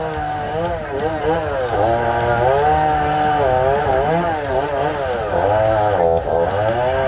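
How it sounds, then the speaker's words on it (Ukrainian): A gasoline chainsaw engine revs loudly and close by, its pitch rising and dipping as it bites into firewood, with faint voices underneath. "первый раз працює бензопилка"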